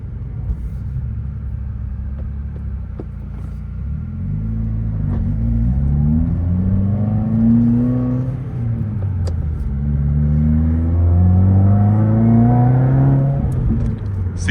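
A 2021 Subaru WRX pulls away from a takeoff with a loud, close engine note that climbs repeatedly through the gears, each rising sweep dropping back and building again over a steady road rumble, with no talking.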